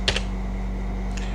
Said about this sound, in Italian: Io seguo a digitare